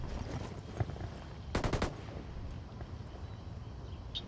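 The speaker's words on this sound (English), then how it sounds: "Somebody's shooting." A short burst of rapid automatic gunfire in Ghost Recon Breakpoint, a few sharp cracks in quick succession over a low ambient rumble, with a faint isolated shot earlier.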